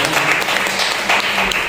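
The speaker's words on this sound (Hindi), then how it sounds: "जोरदार ताली, धन्यवाद।" Hearty applause from a congregation at a Sunday church service, dense steady clapping that fills the room, close and fairly loud throughout the short burst.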